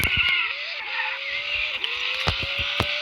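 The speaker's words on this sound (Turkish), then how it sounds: "Şöyle bir drift daha." A car drifting with its tires skidding and squealing in sustained, wavering tones over steady engine noise, with a few sharp bumps and knocks along the way.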